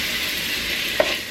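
Beef tips and garlic sizzle in a hot pan, a steady close frying hiss with a soft scrape as the pan is tossed, and no talking.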